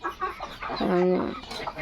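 A farmyard hen gives a short, close cluck that swells into a brief tonal call midway, with a little soft background clucking around it.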